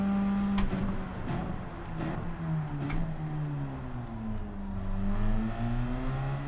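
A Radical race car's engine in the racing game Gran Turismo 7 screams at high revs during a time trial, pitch climbing and then dropping sharply at each gear change, heard close and loud with no talking.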